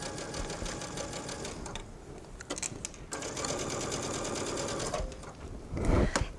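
A sewing machine runs a long basting stitch along the edge of a jacket sleeve, with rapid rhythmic mechanical clatter in close bursts broken by short pauses, with no talking.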